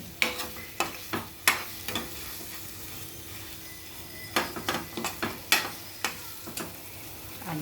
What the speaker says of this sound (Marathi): आता आपण त्यामध्ये अंडे टाकू.